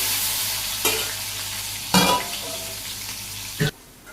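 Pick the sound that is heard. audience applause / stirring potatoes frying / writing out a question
stirring potatoes frying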